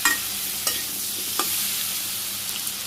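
Green chillies, turmeric and chilli powder sautéing in a pan give a steady close sizzle, with a few sharp scrapes of the spatula stirring through the fry.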